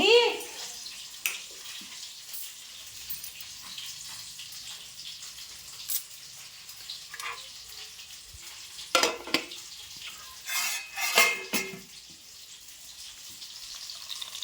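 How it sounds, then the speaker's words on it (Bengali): Fish frying in a pan in a home kitchen, a low steady sizzle broken by a few louder bursts of spatter and clatter, with occasional voices in the background. "এদিকে একটা হচ্ছে মাছ ভাজা"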